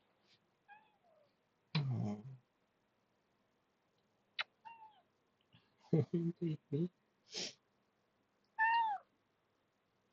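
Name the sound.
cat meowing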